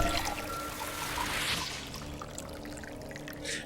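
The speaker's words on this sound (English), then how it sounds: "You pour the serum into the reservoir, and you hear the pump start to flush it through the system." Serum pours into an intake valve in the video game Wasteland 2, a steady liquid gush and trickle that eases off after a couple of seconds, with a short watery burst at the end.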